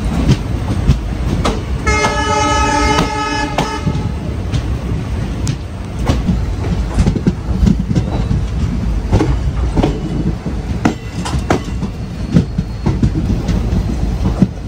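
The Tirupati to Goa Vasco Da Gama Express passenger train rumbles loudly and continuously with rattling rolling noise. A sustained horn blast sounds early on, and rhythmic clacks of the wheels repeat throughout.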